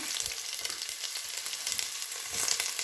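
Ginger, onion and garlic sauté in hot oil in a pan with a bright, continuous sizzle and crackle, punctuated by soft stirring clatters, at a moderate, close level.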